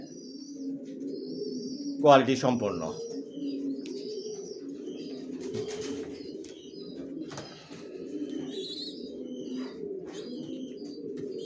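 Racing pigeon chicks coo softly and steadily while someone talks over them, with a few sharper chirps from other birds above the murmur.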